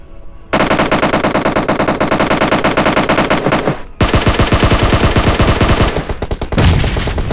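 Sustained automatic gunfire in the mobile battle royale game PUBG Mobile, loud and continuous bursts with a brief break near four seconds and another late, no talk over it.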